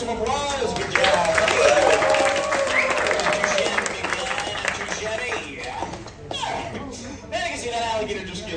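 Crowd applause at an alligator show, a dense wash of clapping with cheering voices mixed in that thins out in the last seconds.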